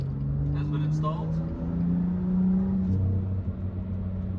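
A BMW M2 with a Fabspeed muffler-delete exhaust cruises on the road, its steady engine drone and low rumble continuous throughout, with faint cabin noise over it.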